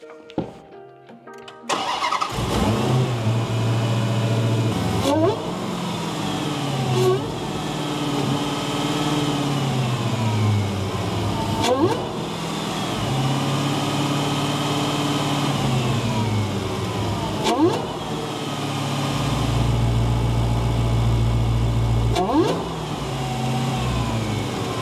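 Dodge Challenger Hellcat Jailbreak V8 starting up with a new intake installed, then idling and blipping through several sharp revs, each a brief loud rise returning to a steady rumbling idle, heard alone.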